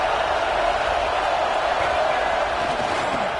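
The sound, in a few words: stadium crowd noise in a college football video game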